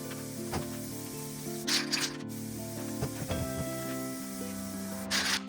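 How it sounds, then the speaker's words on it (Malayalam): Blue paint is sprayed onto a car in two short, hissing bursts from a spray gun, set against a steady background of humming, tonal noise. "ഇന്ന് നമുക്ക് നീല പെയിന്റ് അടിച്ചു കൊടുക്കാം."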